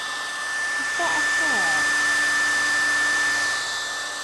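Hair dryer drying the paint carrier fluid on a woodturned platter, with a steady close whoosh and hum that holds for several seconds, alone.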